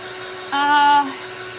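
A hair dryer blows on a pom pom vase craft, a short steady whirring burst that starts abruptly, holds for about half a second and cuts off, with a low hum under it.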